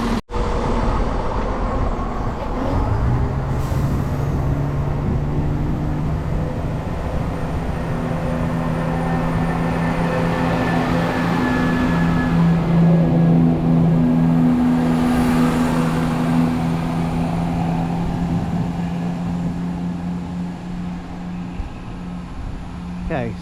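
A Class 172 train pulls away from Newark Castle station bound for Crewe, its engine a loud, steady near drone with tones that rise and hold throughout, carrying on without a break to the end.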